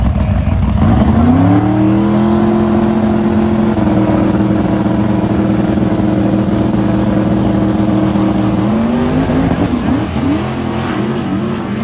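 A pickup truck launching at a Sick Week drag race, its engine holding a loud sustained high roar before the pitch shifts and drops away, with faint crowd noise underneath.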